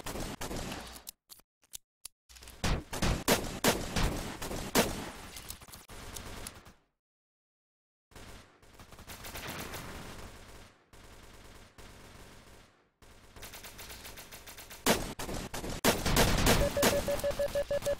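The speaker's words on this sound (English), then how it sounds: "I have to use my pistol because I'm all out of my ammo." Pistol fire in a competitive shooter game: bursts of rapid shots in close succession with short silent gaps between them, loud and near, with no talking over them.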